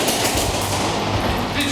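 Rapid rifle fire crackles during military combat training, a dense continuous burst of shots up close and loud, with voices shouting in the background.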